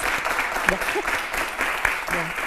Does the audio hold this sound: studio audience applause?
yes